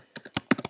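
Quick burst of about six computer keyboard keystrokes in an uneven rhythm, close and crisp, clicking alone with no voices over a silent background.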